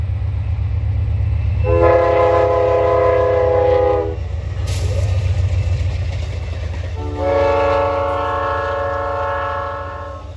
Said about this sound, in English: And approaching west at 341 is Amtrak train number 43, the Pennsylvanian, en route from New York to Pittsburgh.